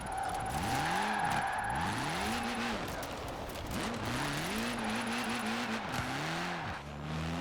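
Forza Horizon 4 car with an oddball tune struggling for grip, its engine note rising and falling in repeated revving sweeps while the tires slip, loud and continuous with no talk.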